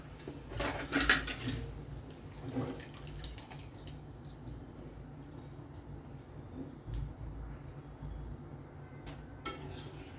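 Metal utensils clink and scrape against a pan while crisp fried sev is lifted out of hot oil. Sharp knocks come in irregular bursts over a quiet sizzling background, with no talking.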